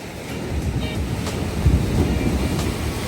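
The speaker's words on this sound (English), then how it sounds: "The waves are literally crashing on these steps, and it gets even higher at night." Ocean waves surge and crash against concrete steps at a beach in Kribi, Cameroon, a steady roaring wash with a heavier breaking swell near the middle, close and loud with wind buffeting the microphone.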